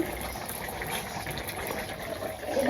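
A pot of curry simmers and bubbles steadily up close, a continuous soft boiling gurgle with no talk.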